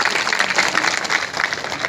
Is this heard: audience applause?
yes